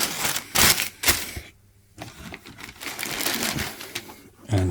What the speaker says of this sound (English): Standard tissue paper.